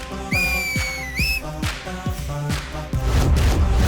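Shrill whistles sound over a busy, noisy action-movie background with repeated thumps and rising swoops, ending in a loud blast as the hero enters.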